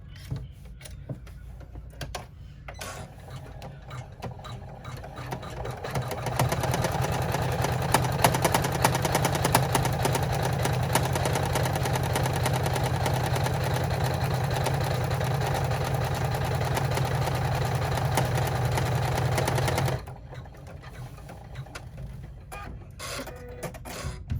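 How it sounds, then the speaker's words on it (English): Sewing machine topstitching a zipper bag clutch, running steadily at close range for about fourteen seconds as a rapid, even mechanical whir and chatter, with quieter handling noises before and after. "Now we're going to go ahead and top stitch."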